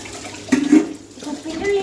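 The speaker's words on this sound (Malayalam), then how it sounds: "കുപ്പിൻ്റെ ഉള്ളിൽ എങ്ങനെ കഴുകുക" Tap water runs while the inside of a bottle is washed, a steady splashing rush that swells for a moment before settling, with a low voice murmuring faintly underneath.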